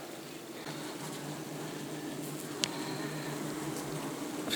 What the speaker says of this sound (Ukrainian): На рамках вже готовий рій висить і чекає своєї черги